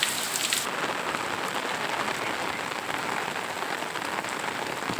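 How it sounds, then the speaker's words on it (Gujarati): Heavy rain falling steadily outdoors near a pond during a full monsoon downpour, a dense continuous hiss of drops on surfaces that never lets up, with no talk. "પર તમે જોઈ શકો છો વરસાદ હજી પણ ચાલુ છે"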